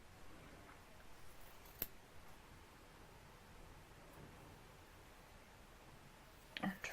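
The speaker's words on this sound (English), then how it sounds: "we'll just cut a little piece here while I have this over here" Scissors snip a small piece of twill tape nearby, with one sharp cut heard partway through, a quiet rustle of handling around it, and a small cluster of clicks at the very end.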